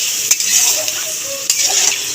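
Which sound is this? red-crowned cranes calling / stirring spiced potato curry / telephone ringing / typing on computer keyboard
stirring spiced potato curry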